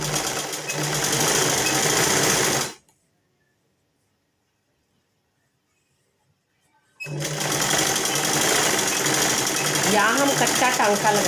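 A sewing machine stitches along a folded sleeve edge in a loud, fast, continuous run that stops for a few seconds of silence and then starts again.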